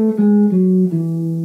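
A plucked guitar plays a short descending fragment of the melodic minor scale from the root, single notes each ringing clearly and evenly paced, alone without any talking.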